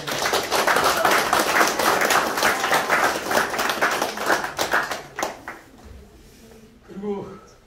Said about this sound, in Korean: 우은정 누님 잠깐 지나가서 박수 한번